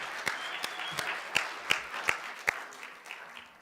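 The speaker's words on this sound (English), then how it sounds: "Give them a round of applause again," A room applauds a group after a church message, with soft continuous clapping punctuated by a few sharp, louder individual claps at irregular intervals, and a voice briefly heard over it.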